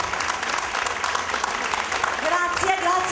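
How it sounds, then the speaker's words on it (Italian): A theatre audience applauds loudly and steadily, dense clapping filling the hall throughout with a few voices rising near the end. "Un applauso forte a Maurizio."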